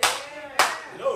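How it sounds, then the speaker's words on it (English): Hands clap in a church congregation during a youth service: two sharp, loud claps about half a second apart, each ringing briefly in the room. "Clap your hands real quick for a trial you ever had."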